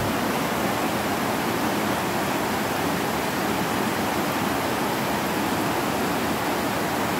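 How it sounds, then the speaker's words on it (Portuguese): Waterfall and rushing water in Alto Caparaó, Minas Gerais: a loud, steady, broadband roar of falling water that holds constant throughout with no talking. "ouvir o som das águas, os passarinhos, a força da água"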